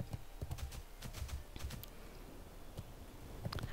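Horse hooves in the World of Warcraft video game, a run of quick clip-clop steps at a walking rhythm, fairly close but quietly mixed, with a pause midway before the steps resume.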